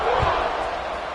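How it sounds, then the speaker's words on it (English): A football video game stadium crowd roars in a loud, steady wash of cheering that fills a brief moment without letup. "this crowd is buzzing after that last score"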